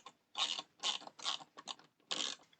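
Small PB screws being driven by hand screwdriver into a plastic Power Rangers Megazord model kit, a series of five short bursts of close, quiet ratcheting and scraping clicks with brief pauses between turns.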